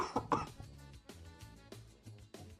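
A man coughs and clears his throat a few times at close range, with short, rough bursts separated by brief pauses and no talking.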